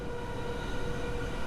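A train runs along the track in the video game Train Sim World 5 on a malfunctioning train, a steady low rumble with a faint tonal hum, moderately quiet and without speech.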